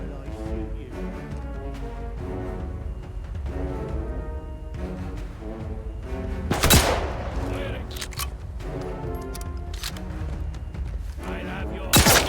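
Gunfire in Atomfall bursts out in a few sharp, loud shots over a busy game soundscape of music and effects, a prominent crack near the middle and another at the end, with a voice talking at points.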